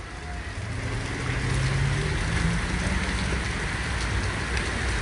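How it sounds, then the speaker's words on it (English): Heavy rain pours down outdoors on a city street near a protest at a police precinct, a dense, steady hiss of drops hitting surfaces close by, with a low rumble underneath and no talking. "it is raining real hard"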